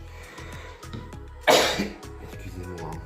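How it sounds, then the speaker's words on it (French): A single sharp cough rings out close by over a steady low rhythmic background. "Excusez-moi si je tousse."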